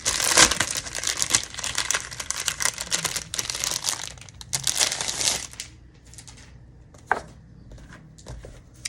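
Paper planner pages crinkling and rustling up close, loud and dense crackling at first, then thinning into scattered softer crinkles.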